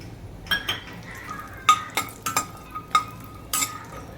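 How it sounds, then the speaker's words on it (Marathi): Walnuts roasting in crumbled ghee in a pan for fenugreek laddoos, with a spoon stirring and scraping against the metal in sharp intermittent clinks over a faint sizzle. "त्या चुरलेल्या तुपात आता अक्रोड भाजून घेऊया"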